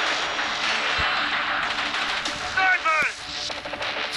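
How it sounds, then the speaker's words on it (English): A rifle shot cracks once in Call of Duty multiplayer gameplay, a sharp report amid game effects and background noise, followed by brief chirping sounds. "Sniper, that was a sniper."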